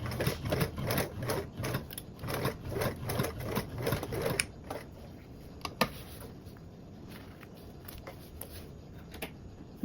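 A sewing machine stitches through a bag gusset in rapid bursts of running stitches for about four seconds, then falls to scattered clicks and soft handling noises, with no talking.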